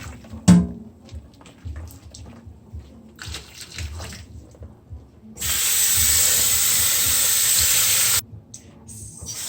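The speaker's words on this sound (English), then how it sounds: "I'll be pouring off the boiling water from the pigtail" A few clunks and handling noises, then a loud steady rush of boiling water poured off pigtail meat for a few seconds before stopping abruptly.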